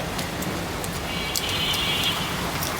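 Heavy rain drumming on a tin roof over a kitchen in Dhaka, a dense, steady, loud hiss that fills the whole stretch with no one speaking.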